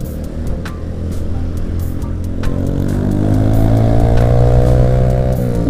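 Honda Beat scooter engine labouring up a muddy uphill road, a loud close continuous drone that rises gradually in pitch as it strains on the climb, with no voices over it.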